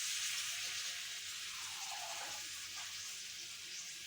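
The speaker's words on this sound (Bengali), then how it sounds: "জল দিয়ে দিলাম" Water poured into a pan of frying masala (chili powder, cumin, coriander, salt) while making a fish curry with potato, eggplant and beans, giving a steady soft hiss and gush throughout, fairly quiet.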